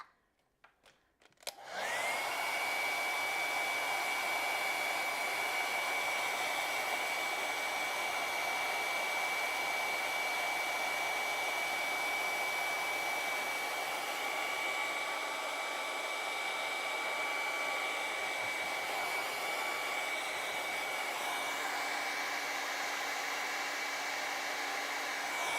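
A hair dryer switches on after a brief click and blows a loud, steady whine-and-rush of air over colored pencil and pan pastel artwork, holding an unbroken tone close by for over twenty seconds.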